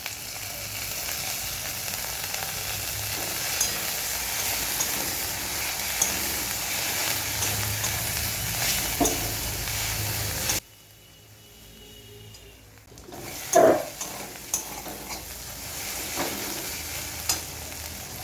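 Ginger-garlic paste sizzling with fried onions in a pan for prawn malai curry: a dense, close, steady sizzle, then a short quieter gap, then the frying hiss resumes with a burst of stirring scrapes.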